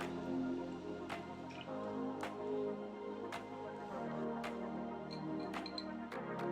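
Ground banana flower paste squeezed by hand to press out water, giving soft, repeated wet squishes and drips at a steady rhythm, close and fairly quiet, with no talking.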